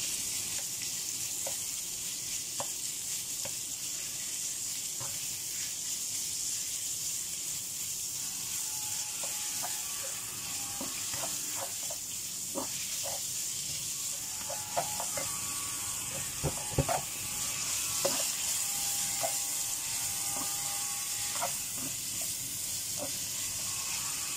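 Ground meat sizzling and browning in a pan, a steady soft hiss with scattered pops and crackles, plus occasional clinks of a spatula against the pan.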